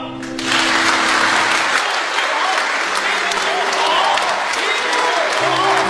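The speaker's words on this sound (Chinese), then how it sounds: "现场嘉宾齐齐鼓掌送常宝华最后一程。" Guests at the funeral of crosstalk performer Chang Baohua break into loud, sustained applause from a crowd that continues steadily for several seconds, after a brief tonal sound at the very start.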